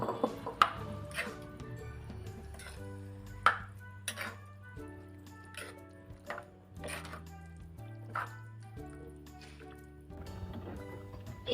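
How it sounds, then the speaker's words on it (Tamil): Soya chunks are stirred into a simmering gravy with yogurt, with sparse spoon taps and clinks against the pot over steady background music. "தயிர் 100 கிராம் சேர்க்கலாம். சோயா வேப்பு போட்டு கிளறி விடலாம்."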